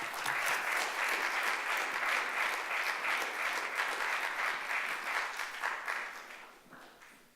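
Audience applause welcoming author Andrew Diamond at the Chicago Public Library, a steady dense clapping from a seated crowd that holds for about six seconds before tapering off.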